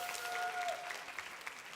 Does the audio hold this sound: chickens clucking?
no